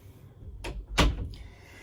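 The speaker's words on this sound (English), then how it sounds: "Let me close this door." An indoor door swings shut with a sharp thud, preceded by a softer knock or latch sound, followed by quiet room tone; no talking.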